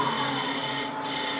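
Abrasive paper rubs steadily against poplar wood spinning on a lathe, the tailstock still in place, giving a constant close-up hiss with a slight dip near the end.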